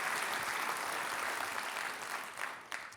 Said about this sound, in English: Let's give Laserfiche a big round of applause for the work they do.